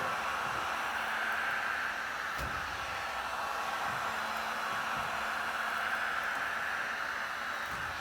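Heat gun blowing a steady airy roar while quarter midget tire rubber is scraped, close and continuous, with a faint tap or two underneath.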